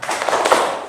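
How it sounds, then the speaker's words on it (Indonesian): A class does a rhythmic spirit clap in a classroom warm-up, a quick patterned run of claps and taps, moderately loud and slightly roomy, with faint voices in the background. "Baik, tepuk semangat."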